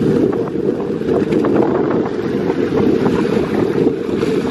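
Sea and wind at the coast, a steady broad roar of surf with rushing wind buffeting the microphone throughout, loud and continuous with no voices.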